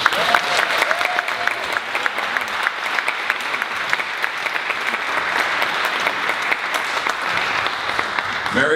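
Sustained, dense applause from a large audience at a Harvard talk, steady and loud throughout with no pauses, a crowd clapping together for the speaker.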